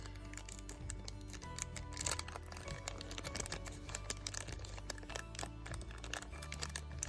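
Close, busy crinkling and rustling as a package wrapped in bubble wrap inside a plastic bag is opened, a steady stream of sharp plastic crackles and pops with no talking.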